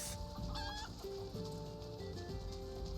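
A green chocobo in Final Fantasy XIV lets out a series of bright, warbling chicken-like calls, several short chirps then longer wavering notes, over a steady game background.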